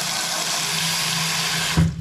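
A high-pressure tap in a house in Hungary gushes water in a steady, loud hissing rush that shifts abruptly in tone near the end.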